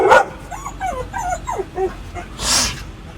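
A small dog yips and whimpers in a run of short, high-pitched vocalizations, close by, ending with a sharp noisy burst.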